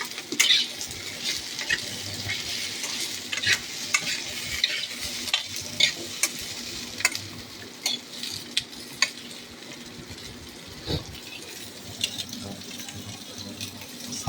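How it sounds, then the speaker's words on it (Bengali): Drumstick pods (sajne danta) fry with mixed vegetables in a pan, giving a steady sizzle broken by frequent sharp scrapes and clinks from stirring, close and fairly loud throughout. "এবার দেখছেন সজনে ডাঁটাগুলো এই সবজিগুলোর মধ্যে দিয়ে দেওয়া হলো, দিয়ে এটাকে একটুখানি এর সাথে ভেজে নেওয়া হবে।"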